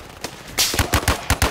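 5.56 rifle fire in the VR shooter Zero Caliber: a rapid string of sharp, loud gunshots in quick succession, roughly seven or eight reports in uneven bursts, close and punchy.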